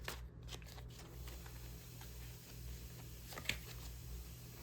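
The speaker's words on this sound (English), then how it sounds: "shuffling these cards." Soft, steady riffling of playing cards being shuffled close by, over a low hum, with a brief sharper snap near the end.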